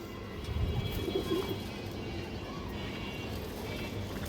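Soft cooing and fluttering of a restless Indian highflyer pigeon being held in the hand, close by, under faint background talk and steady room noise.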